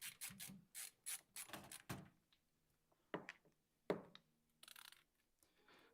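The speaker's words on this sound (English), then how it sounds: "Let me just screw in these top screws." Screws being driven into the top of a gaming PC case, a series of sharp ratcheting, mechanical clicks and scrapes in short bursts, close up and fairly quiet, with no speech.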